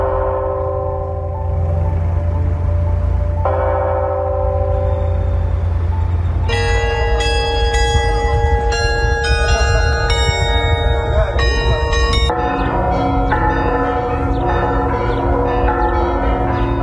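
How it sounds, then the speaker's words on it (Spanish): Church bells in Mexico ringing in farewell to the pope, several bells struck repeatedly and overlapping in a loud continuous peal with a low hum beneath. "A la 1 de la tarde, las campanas de las iglesias sonaron para despedirlo."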